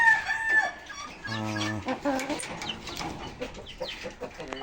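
Aseel hens and other chickens on a poultry farm near Dhaka cluck and squawk close by in short, uneven bursts, with faint talk in the background.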